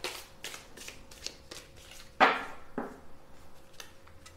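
A deck of cards is shuffled and cut up close: a steady run of soft rhythmic card slaps, then a sharper riffling burst and a quieter follow-up, with no voices.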